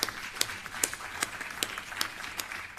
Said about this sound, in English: I want all of us to give ourselves a special round of applause